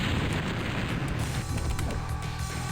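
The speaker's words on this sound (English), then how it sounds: "use the rocket launcher, not the fucking SSG" Rocket launcher explosions in Doom (Hell's Memento wad) roar as a dense, continuous barrage of loud booms with mechanical clatter, sustained for the whole stretch.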